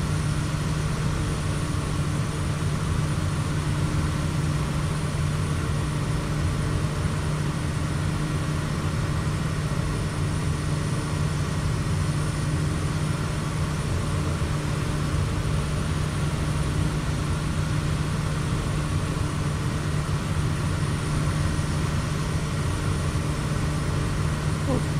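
A light aircraft flying from Brisbane to the Gold Coast climbs at about 1,000 feet per minute, its engine droning in a steady, loud, unbroken low-pitched roar for the whole stretch, heard from inside the cabin.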